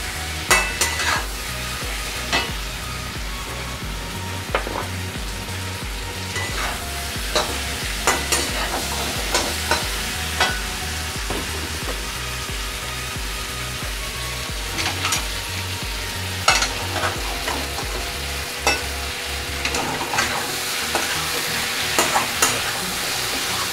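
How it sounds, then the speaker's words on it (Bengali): Pointed gourd (potol) pieces fry in a pan with shrimp, a steady close sizzle broken by frequent clacks and scrapes of a spatula stirring, with no voices. "একটু ভালো করে ভাজতে হবে পটলগুলো"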